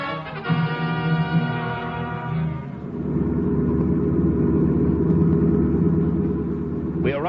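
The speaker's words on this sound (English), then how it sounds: "Car pulling away out in front." A car engine in a radio drama chase pulls away in front, starting with a bright harmonic rev that settles into a steady, loud mid-pitched driving rumble, with a brief voice-like burst at the end.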